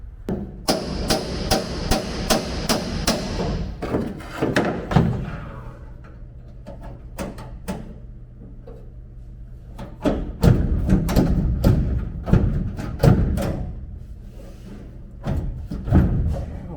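Hammer blows on the bent sheet metal of an old Ford F-250 tailgate, a fast series of loud metallic strikes, then a pause with a low hum, then more spaced, heavy knocks.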